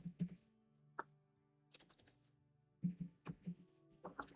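Keystrokes on a computer keyboard come in short bursts of close, crisp clicks separated by brief quiet pauses, with no talking.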